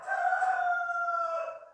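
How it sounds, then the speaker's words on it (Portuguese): A rooster crows once in a single long, drawn-out call that holds steady and then trails off, heard fairly clearly without other sounds. "bonito o galo cantando agora"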